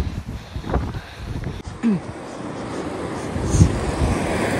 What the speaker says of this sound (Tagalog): Malakas din yung hangin.